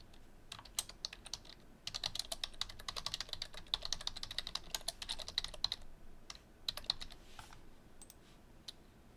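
Rapid, uneven clicking of a computer keyboard being typed on, with bursts of keystrokes and brief pauses, close and fairly quiet, with no voices.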